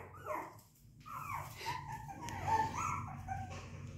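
A Lhasa Apso puppy whimpers and whines at a doggy door nearby in soft, high, wavering cries, with a few faint yips over a low background rumble.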